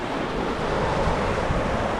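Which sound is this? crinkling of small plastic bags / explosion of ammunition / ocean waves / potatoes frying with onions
ocean waves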